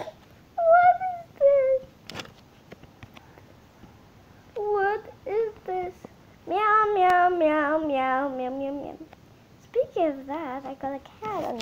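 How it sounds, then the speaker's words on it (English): A cat hidden under a bed meows repeatedly in several drawn-out, wavering bouts with pauses between them, close and clear in a quiet room. "I got a cat under the bed."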